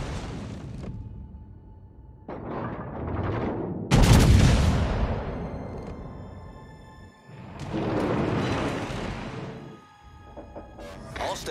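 Heavy battleship main guns boom repeatedly in World of Warships aboard the tier 9 USS Delaware: several deep, loud salvos with long rumbling tails, separated by pauses, with a voice heard between them.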